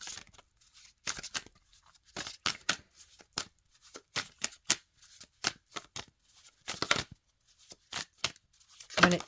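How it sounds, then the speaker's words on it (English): A deck of cards used for a weekly card pull is shuffled and a card drawn, giving bursts of crisp riffling and flicking snaps in an uneven rhythm, close and fairly quiet, with no talking. "I'm gonna just pull one more card from this deck"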